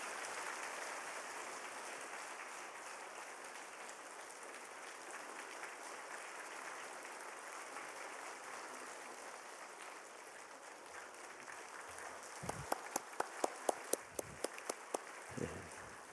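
A congregation at a Sunday daytime church service gives soft, continuous applause. A few louder, crisp claps ring out nearby just before the end.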